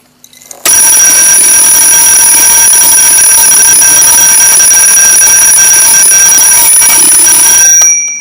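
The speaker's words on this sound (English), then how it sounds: "The alarm works well and very noisily." A Bradley Mickey Mouse mechanical alarm clock bell rings loudly and continuously for about seven seconds, a harsh metallic clatter that cuts off abruptly.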